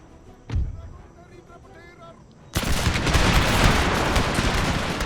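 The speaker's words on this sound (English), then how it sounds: "The dragoons fired." Dragoons fire a volley in Empire Total War: a single muffled thump first, then a sudden dense crackle of many musket shots that rolls on loudly for a couple of seconds, with talk in the background.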